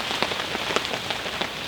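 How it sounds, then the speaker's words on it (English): Steady rain pattering on a bushcraft camp at night during a storm, a dense close patter with scattered louder drops and no voices. "hope this rain passes"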